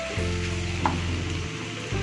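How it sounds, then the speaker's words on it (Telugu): Paste of peanuts, poppy seeds and ginger-garlic frying in a pan with tomato and onion for jackfruit seed curry, a soft steady sizzle over a low hum, with a brief clink partway through. "ఆ పేస్ట్ని యాడ్ చేస్తున్నాను. కొంచెం పచ్చివాసన పోయే వరకు దీన్ని వేయించుకోవాలి."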